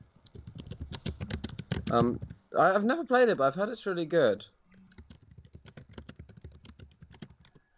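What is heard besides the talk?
typing on a keyboard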